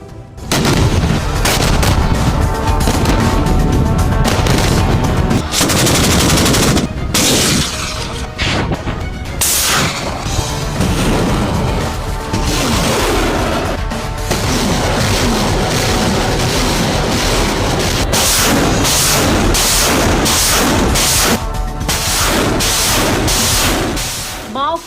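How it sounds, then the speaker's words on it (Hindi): Chinese missile launches and artillery barrages near the Tibetan plateau, a loud, sustained roar of blasts and booms almost without pause, with brief dips between volleys and a voice talking over it. "मिसाइलों और तोपों से तमाशा दिखाया।"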